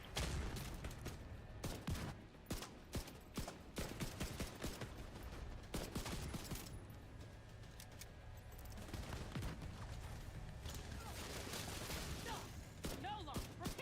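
Gunfire in the video game The Division 2 comes as rapid bursts of sharp shots and volleys, repeated irregularly across the stretch over a busy rumbling battle background.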